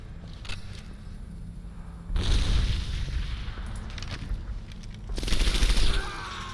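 A grenade blast in Medal of Honor: Airborne erupts as a heavy, rumbling boom amid ongoing gunfire, followed by a second loud burst near the end of the game battle.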